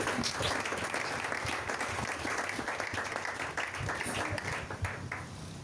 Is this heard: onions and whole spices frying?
no